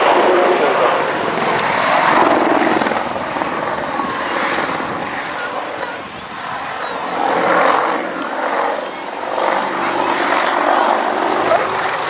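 An Apache attack helicopter performs a 270-degree rollover display manoeuvre at an airshow, its loud rotor and engine roar rising and falling continuously as it banks and passes, with faint crowd noise beneath.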